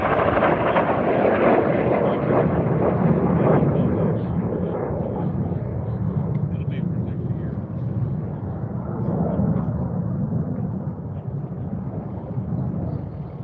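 A racing jet aircraft at the Reno air races pylon school passes with a loud, broad roaring rush that holds strong throughout and slowly fades and dulls toward the end.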